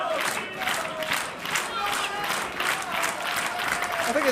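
A wrestling crowd at a Southside Wrestling Entertainment show applauds and cheers steadily, a dense wash of clapping and voices that swells in waves after a near-fall off the top rope.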